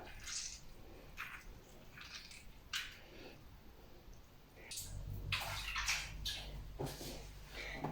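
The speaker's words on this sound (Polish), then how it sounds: "I mieszamy surówkę" Beetroot salad dressed with lemon juice being tossed and stirred in a bowl, giving wet, squelchy mixing scrapes in irregular bursts, louder and denser in the second half, with no talking.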